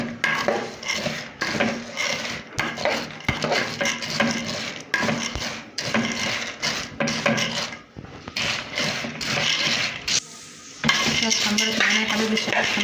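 Vermicelli fries in a pot for Egyptian koshari, stirred with a utensil that scrapes and clinks rhythmically against the metal, the clatter repeating close up with brief pauses and a faint sizzle underneath.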